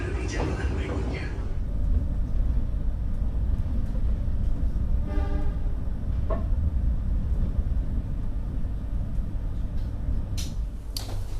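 The KA Pandalungan train pulls into Gambir station in Jakarta with a continuous heavy rumble, broken by a few brief metallic squeals and a short high screech near the end, as muffled voices carry on in the background.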